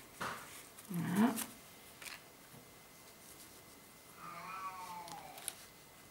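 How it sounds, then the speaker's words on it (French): A cat gives a short, fairly close meow, then a second fainter, drawn-out meow a few seconds later, with quiet rustling in between. "C'est le chat que vous entendez"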